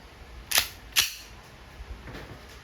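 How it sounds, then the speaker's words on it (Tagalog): Full-metal Umarex Colt M45 CQBP air pistol firing, two sharp close snaps about half a second apart, followed by fainter mechanical clicks. "Firing. One shot. One shot."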